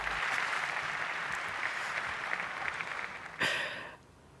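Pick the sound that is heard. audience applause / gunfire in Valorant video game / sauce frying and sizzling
audience applause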